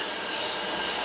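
Boston subway train running toward Park Street, a steady loud rumble with wheel squeal and rail noise filling the brief moment.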